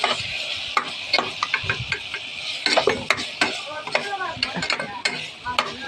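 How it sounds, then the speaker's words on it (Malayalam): Chicken curry being stirred in a pan after turmeric powder goes in, with repeated scraping and clinking strokes of the spoon against the pan over a faint sizzle, irregular and close. "രണ്ട് ടീസ്പൂൺ മഞ്ഞൾപ്പൊടി ഇട്ട് ഇളക്കി കൊടുക്കാം നന്നായി ഇളക്കിയതിന് ശേഷം"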